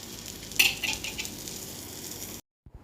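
Scrambled egg with tomato and Bombay onion sizzles steadily in a pan, with a few clanks and scrapes as it is flipped, then the sound cuts off abruptly near the end.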